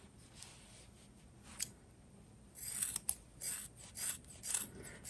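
Scissors trimming chunky crochet yarn tassels on a shawl, soft close snips and brushing, a few faint cuts followed by a quicker cluster of crisp snips near the end.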